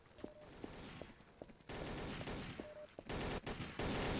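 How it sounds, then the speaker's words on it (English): Video game gunfire in Garry's Mod: scattered single shots at first, then dense bursts of rapid fire that grow louder toward the end. "Sir, you're fucking shooting me now?"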